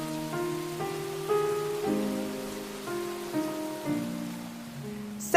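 Rain falls steadily in the video game Rain, set in an abandoned city, a soft continuous patter under sustained tonal music notes, with a louder splash at the end.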